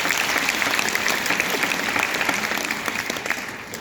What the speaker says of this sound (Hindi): जोरदार तालियां नारी शक्ति के लिए।